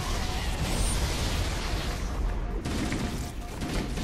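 Dense, continuous gunfire and explosions from the Halo campaign against the Flood, loud and unbroken with rapid bursts layered over each other and no clear gaps.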